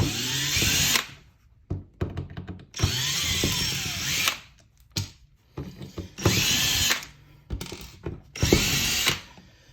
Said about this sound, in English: I'm just going to use a cordless drill, take these out real quick